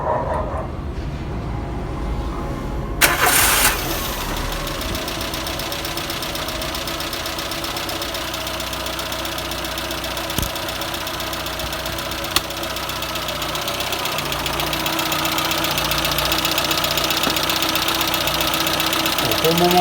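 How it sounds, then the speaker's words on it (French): A Citroën BX engine cranks and catches after a few seconds, then idles steadily with a rough, slightly knocking mechanical hum that grows a little louder toward the end, close by, with occasional clicks. "maintenant je vais redémarrer à nouveau la voiture"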